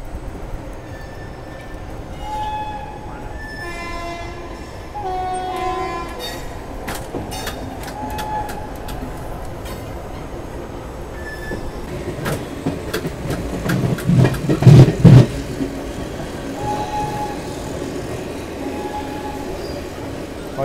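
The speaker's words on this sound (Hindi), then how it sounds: "आगे WAP4 लोकोमोटिव लगा हुआ है।" Passenger train of the Chennai Mumbai Express, hauled by a WAP4 electric locomotive, rolls steadily with continuous rail rumble and wheel clatter, growing louder and rougher near the end with a burst of clanking.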